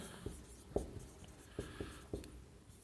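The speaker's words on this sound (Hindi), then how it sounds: "मैं यहाँ पर लिखता हूँ एक कोलकाता" Quiet tapping and brief scratches of writing on a board in a general knowledge class, a handful of separate strokes close by, with no talking.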